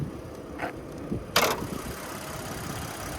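A 2025 Nissan Frontier PRO-4X 3.8-liter V6 engine idles at a steady low, even rumble, close by, with a couple of brief clicks and taps over it.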